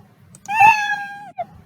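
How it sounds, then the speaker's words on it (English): Cartoon-style cat meow sound effect from the Scratch programming tool, a single drawn-out harmonic meow lasting under a second, followed by a short faint chirp-like tail. "Play sound meow"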